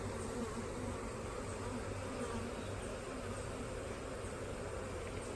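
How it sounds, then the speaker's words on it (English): A swarm of honeybees drones in a continuous, even buzz with no pauses, at moderate level close by, with no voices. "Typically a swarm will be a lot of young bees ready to make wax."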